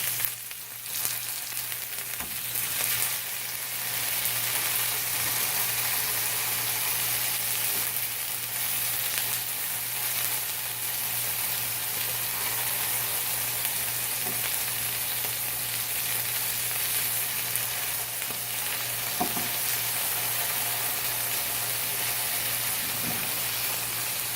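Pork tenderloin pieces frying in a pan on a stovetop, a steady close hiss and sizzle that keeps on throughout with a few faint clicks, no voices.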